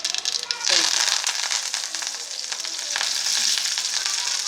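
Mustard seeds and curry leaves crackle and sizzle loudly in hot oil, a dense hiss that swells as the leaves go in and keeps spitting steadily, tempering for carrot chutney.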